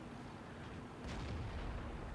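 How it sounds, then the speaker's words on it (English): A Kanonenjagdpanzer tank destroyer's cannon fires in World of Tanks, a single deep boom partway through that rolls on into a low rumble over faint ambient noise. "Now that cannon panzer was obviously just fired through the bush"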